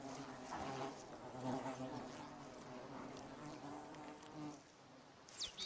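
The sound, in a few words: bees buzzing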